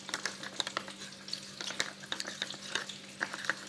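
Water with gravy ingredients simmering in a pan on the stove, bubbling and sizzling steadily with irregular ticks and crackles and a faint steady hum underneath, close and moderately quiet with no talk.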